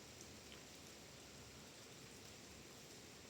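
Light, gentle rain falls in a steady, even patter, a soft continuous hiss with no voices and no breaks, fairly quiet throughout.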